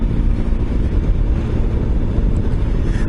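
A Triumph Tiger 955i motorcycle, back on the road after being abandoned for three years, rides along with a loud, steady engine drone buried in heavy wind rush.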